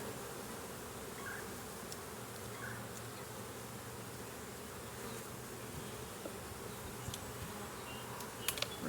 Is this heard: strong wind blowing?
no